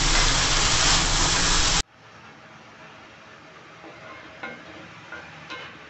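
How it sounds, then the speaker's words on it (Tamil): Ponnanganni greens sautéing in a pan: a loud, hissing sizzle for the first two seconds drops abruptly to a softer crackle with light stirring scrapes. "பாருங்க நல்லா வதங்கணும்."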